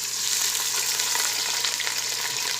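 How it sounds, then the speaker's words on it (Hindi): Onions fry in hot oil in a pot for aloo pulao, a loud, steady sizzle and crackle with occasional stirring scrapes, no voices. "प्याज़ों को लाइट ब्राउन होने तक फ्राई करेंगे।"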